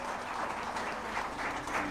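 An audience at a cricket commentators' awards ceremony in Rajkot claps, producing steady, moderately faint applause that holds evenly without a clear peak.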